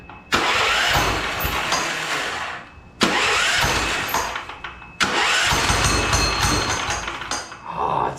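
A turbocharged 420cc go-kart engine is pull-started three times: each yank brings a loud burst of sputtering, revving engine noise that runs a second or two and then dies back, close to the microphone.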